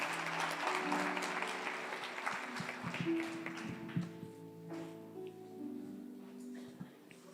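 A church congregation applauds at a service, clapping loudest at the start and fading over several seconds beneath sustained music tones and scattered voices.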